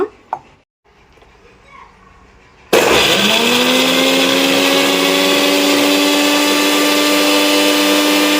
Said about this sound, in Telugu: ఇప్పుడు వెల్లుల్లిపాయలు అయితే మిక్సీలో వేసుకుందామండి